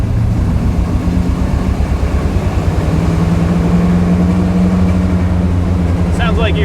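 A 1986 Jeep CJ7 engine drones steadily and loudly from close by while the vehicle is driven off-road, a continuous low rumble with no pauses.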